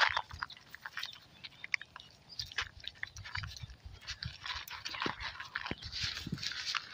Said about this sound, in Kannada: ನೋಡ್ತಿದ್ರೆ ಎಲ್ಲ ನಾಯಿ ಮರಿಗಳು ಚೆನ್ನಾಗಿ ತಿಂತಾ ಇದೆ